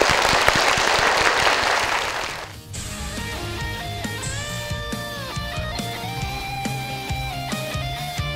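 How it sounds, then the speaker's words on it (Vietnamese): Dense audience applause fills a televised game show studio for about two and a half seconds, then gives way to loud music with singing. "chúng ta cùng dành một tràng vỗ tay."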